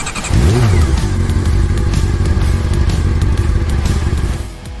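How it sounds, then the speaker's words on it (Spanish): An Aprilia Tuono V4 motorcycle engine roars loudly and steadily, revving up briefly at the start before settling into a continuous rumbling drone. "cada historia comienza con el rugido de un motor"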